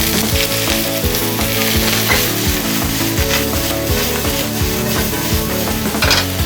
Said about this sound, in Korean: 채소를 넣어서 볶아주겠습니다